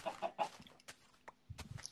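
Chickens clucking in the video game Minecraft, a few quick close clucks followed by scattered short bursts and low thumps, with quiet gaps between.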